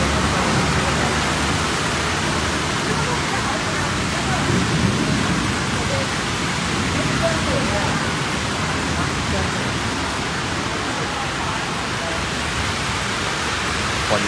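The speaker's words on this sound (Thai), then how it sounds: "ฝนที่ตกลงมาอย่างหนักนะครับในพื้นที่กรุงเทพชั้นใน" Heavy rain pours onto a flooded street under the BTS Phaya Thai station in inner Bangkok at night, a dense, steady broadband hiss that stays loud and unbroken throughout with no pauses.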